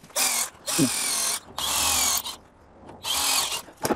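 A power drill with a 5 mm bit bores pilot holes into a dried gourd body for a rabeca, three loud whirring bursts separated by short pauses, close up.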